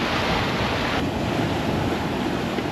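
Water rushes loudly against the stern skirt of a sailboat under way in about 13 to 14 knots of wind, a constant close roar of surf and wind noise.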